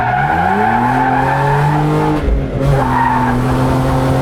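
A stock BMW 125i drifts with loud, sustained tire squeal over a droning engine note, the pitch bending briefly mid-slide before the screech settles again, close and continuous.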